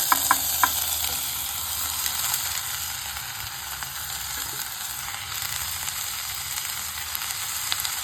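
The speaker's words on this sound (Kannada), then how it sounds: "ಟೊಮೆಟೊ ತರಕಾರಿ ಹಾಕ್ತಾಯಿದ್ದೀವಿ" Tomatoes sizzle in a frying pan for a pea curry, a steady, even frying hiss over eight seconds with a few light clicks of a spoon at the start, close and moderate, without voices.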